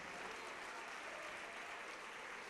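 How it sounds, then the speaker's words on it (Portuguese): A church congregation applauding during a worship service, a steady dense wash of clapping that holds evenly throughout, with no voices standing out. "E está vindo mais, vamos aplaudir mais."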